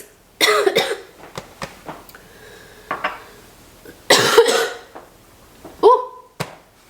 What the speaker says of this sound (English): that cough came out of nowhere